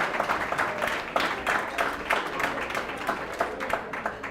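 An awards-night audience claps for a 94-year-old woman being honored. The applause is dense and continuous, a steady rush of many hands that stays even throughout.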